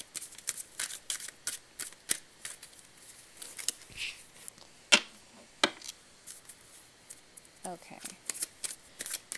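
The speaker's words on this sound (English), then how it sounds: "we're going to just shuffle again" Tarot cards are shuffled by hand in quick riffling bursts and soft flicks, close and crisp, with a few card snaps and a brief spoken word.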